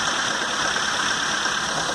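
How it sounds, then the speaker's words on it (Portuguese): Peugeot 206 engine running rough and shaking, a steady close-up idle drone with a dense, uneven, knocking texture throughout and no talk. "Você vê que o motor tá chacoalhando demais"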